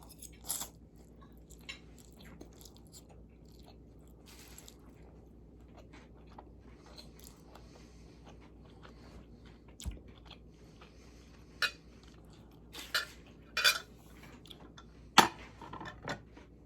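Baked feta and tomato pasta is eaten with cutlery in a quiet room: soft chewing and bites, with a few sharp clinks and crunches near the end.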